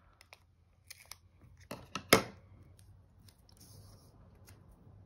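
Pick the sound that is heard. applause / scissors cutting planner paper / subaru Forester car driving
scissors cutting planner paper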